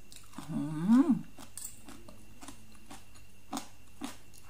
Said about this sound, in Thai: เริ่มทานเลยนะคะลองชิมก่อน ลองชิมก่อนว่าเผ็ดหรือเปล่า